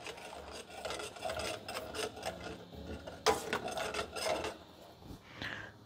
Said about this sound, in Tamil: கொஞ்சம் சுகர் அப்படியே கொட்டி கலக்கிக்க போகிறேன்.